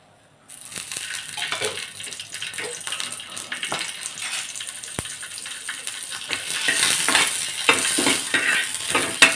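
Green chili pieces roasting in a little oil in a pan give a steady crackling sizzle with occasional scraping stirs, growing louder and busier toward the end.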